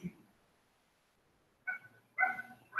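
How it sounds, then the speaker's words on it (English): A puppy in an animated film gives a few short, high yips and barks after a quiet pause, heard from a moderate distance. "Hear that? Puppy."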